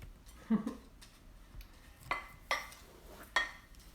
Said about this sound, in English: So we'll mix all of these dry ingredients first.